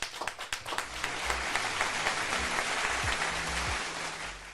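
An audience claps in a sustained burst of applause, building quickly from a few claps into a full, steady roar.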